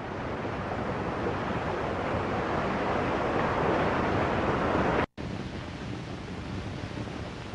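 Steady rushing flow of a large volume of water running underground, a continuous broadband roar with no pauses apart from a momentary dropout near the end.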